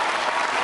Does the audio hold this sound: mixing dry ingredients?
no